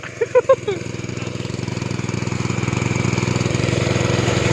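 The engine of a groundwater well-drilling machine in Laos starts after a few brief voices and settles into a loud, close, rapid rhythmic chugging that grows steadily stronger.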